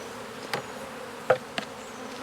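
Honey bees in an apiary hum as a steady low drone, with a few brief louder passes of single bees flying close.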